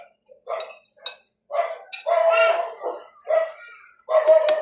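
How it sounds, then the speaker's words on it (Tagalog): Dogs bark outside in several short, separate bursts at moderate distance, some yips mixed in, with brief quiet gaps between them. "Ngayon yung mga aso sa labas, may tao na parating."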